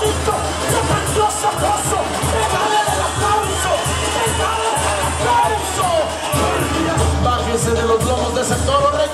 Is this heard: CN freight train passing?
no